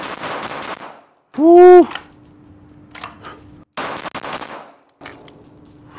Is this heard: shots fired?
yes